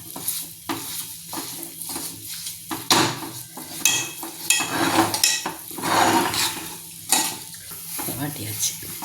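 Dates and cherries roast in hot ghee in a pan, with a steady sizzle and frying hiss under repeated clattering stirs of a spoon against metal, loud and close, with no speech.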